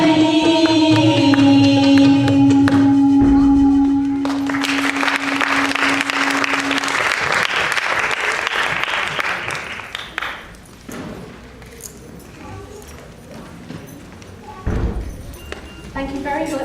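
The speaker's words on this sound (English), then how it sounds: "Shall we give them another round of applause?" A crowd applauds a performing group at a women's day event. Music ends, then sustained clapping builds and carries on for several seconds before thinning out.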